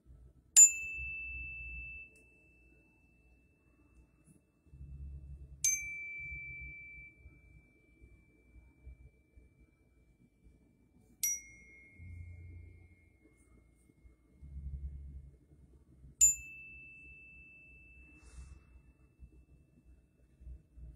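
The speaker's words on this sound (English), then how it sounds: "So I use a hand chime, especially when I'm working with patients who are receiving Reiki healing." A hand chime rings four times at even intervals during a Reiki sound healing session, each a bright metallic strike with a long, fading ring, while low murmured sounds fill the gaps.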